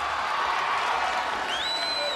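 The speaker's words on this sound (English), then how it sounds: "Listen to his cheering section go wild." A cheering section in an American Gladiators arena roars during a championship event, a steady wash of crowd noise with a rising whistle near the end.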